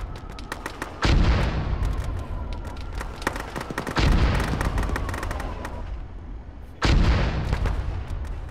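Artillery rounds from a military video game fire mission boom heavily three times, each deep blast rolling into a long rumbling decay layered with scattered distant gunfire cracks, loud and close.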